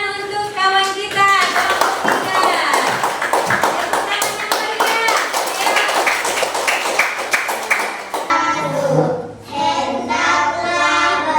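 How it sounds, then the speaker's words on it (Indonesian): A group claps hands at an Islamic religious education teacher-training session at a university in Padangsidimpuan, a dense burst of clapping lasting about eight seconds before a voice starts speaking alone. "Tepuk tangan untuk kawan kita."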